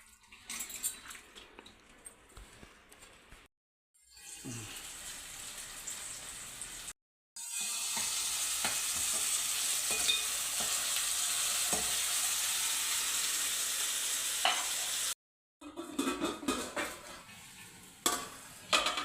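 Onion pieces fry in a pan with a loud, dense, continuous sizzle, broken by short gaps and by bursts of spoon scraping and stirring clatter at the start and end.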